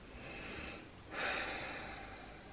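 Deep breathing during a yoga prayer twist: a soft, close inhale followed by a stronger, breathy exhale near the midpoint, quiet and unaccompanied by talk.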